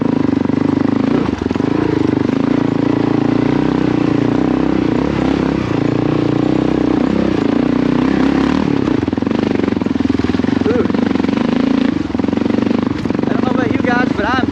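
A KLR650 motorcycle in first gear pulling hard up a steep hill climb, its engine droning loud and steady with strain, under frequent talk from the rider.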